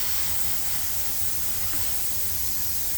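An Iwata Revolution airbrush with a 0.3 needle sprays paint onto a StuG III Ausf G model in a continuous, even airy hiss, close and unbroken, with no speech.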